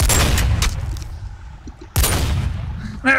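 Sniper rifle gunfire in a modded Minecraft shootout minigame: two loud, booming shots about two seconds apart, each with a decaying rumble, then a short sharp metallic rattle at the end.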